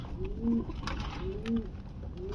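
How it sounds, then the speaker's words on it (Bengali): Giribaz pigeons give two clear, close coos about a second apart, with a third call beginning at the end, over a low steady background hum. "দেখেন কত সুন্দর কবুতর,"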